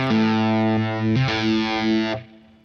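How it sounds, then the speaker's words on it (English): Electric guitar played through a Univibe effect on a Line 6 Helix, distorted chords ringing loudly with a wavering modulated tone, changing once midway before cutting off and fading. "I bring down that level on the Univibe a little bit because I don't want it to affect the overall volume"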